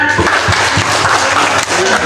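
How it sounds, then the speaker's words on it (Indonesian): A school audience at a vocational high school event claps together, a dense burst of applause under a noisy hall, fairly loud and continuous throughout. "kita kasih tepuk tangan dulu ya"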